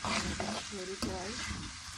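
Peshawari mutton karahi fries loudly in a pan, a dense close hiss and crackle with brief stirring scrapes and a low rumbling undertone over two seconds, without talking.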